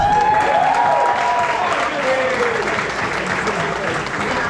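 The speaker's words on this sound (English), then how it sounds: "I think we should give him a round of applause" Sustained applause from a crowd at a school dance performance event, loud and dense throughout, with some voices and cheering mixed in.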